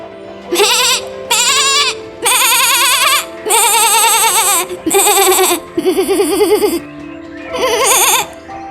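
Repeated loud goat bleats in a cartoon story after the goat is struck in the face, seven wavering cries in quick succession with short gaps, close and clear.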